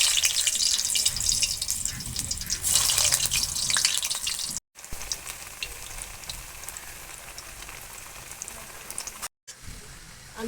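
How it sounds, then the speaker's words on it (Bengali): Potatoes fry in hot oil in a wok for a spicy chicken curry, a steady crackling sizzle that is fierce at first and then settles into a softer, continuous bubbling hiss. "কড়াইতে তেল দিয়ে আলু ভেজে নেব"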